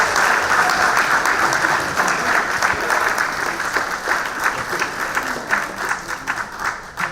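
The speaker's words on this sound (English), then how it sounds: "a big round of applause" A conference audience at a youth conflict-resolution awareness event breaks into a full round of applause, dense and sustained clapping that slowly thins toward the end.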